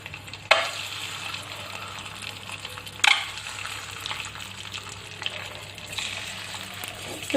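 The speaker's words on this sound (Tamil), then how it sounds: "எண்ணெய் காஞ்சிருச்சு நம்ம இதில் வந்து இந்த முட்டையை இதோட சேர்த்துடலாம்" An egg fries in hot oil with a steady dense sizzle close by, and two sharp louder bursts at the start and about three seconds in, with no talking.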